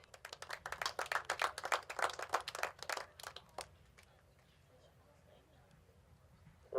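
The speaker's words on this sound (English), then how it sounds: "Round of applause" Spectators at a youth rodeo applaud after a rider's dismount on the field, a dense patter of clapping for about three and a half seconds that then fades out, leaving quiet outdoor background.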